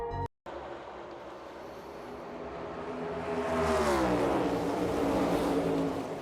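NASCAR stock cars roar into turn one as a pack, engines climbing in pitch and swelling louder as they sweep past, leaving a sustained, rising mechanical drone.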